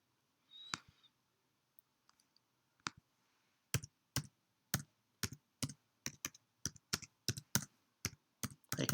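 Keys clack on a computer keyboard while search terms are typed into a library website search, a few scattered taps followed by a quick, fairly even run of close, crisp keystrokes in a quiet room.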